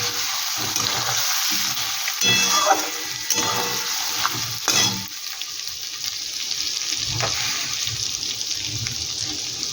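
Khichuri with tomatoes and slit green chilies frying in a pan, a steady close sizzle running throughout, broken by scraping stirs and the clatter of a spoon every second or so.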